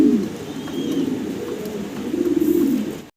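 Several pigeons at a fancy pigeon seller's loft coo continuously in low, rolling calls, with a brief faint chirp over the steady murmur.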